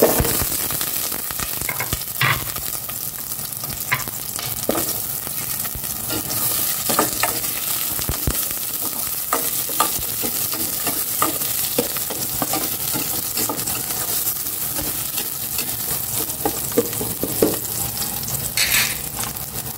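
Onions sizzling steadily in a hot pan for Filipino-style sautéing, with a constant frying hiss and occasional scraping stirs, close and fairly loud, without speech.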